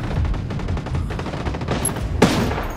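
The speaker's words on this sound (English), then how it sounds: "Taking fire! God, too many." Dense tactical gunfire from the video game Ghost Recon, with continuous overlapping shots and a sharper burst near the end forming a steady, chaotic firefight with no speech.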